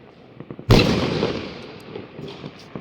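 A New Year's Eve firework in China goes off in a single loud, close blast that rolls into a long rumbling decay, with faint crackles before it and a few after.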